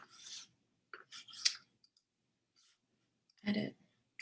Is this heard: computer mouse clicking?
yes